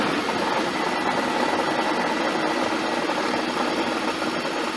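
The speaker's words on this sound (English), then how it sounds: "Ronnie, crank the fucking engine." A BMW E46 330Ci engine runs in a loud, steady, rough idle close to the microphone, with no talking over it.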